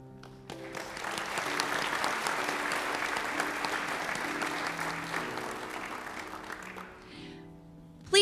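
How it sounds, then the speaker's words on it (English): Audience applause at an elementary school awards ceremony, steady broadband clapping from a crowd that swells, holds for several seconds, then tapers off near the end, with faint talk at the edges. "Please join me for a round of applause for our students from Timber Creek Elementary"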